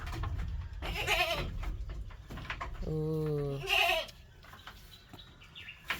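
A goat gives one clear, wavering bleat partway through, close and fairly loud, amid farmyard rustling and brief human voices.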